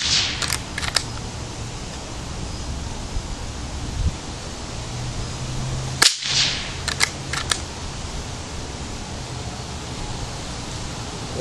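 Gunshots fired to knock pears off a pear tree ring out outdoors, a few sharp cracks near the start and a louder cluster around the middle against steady breezy background noise.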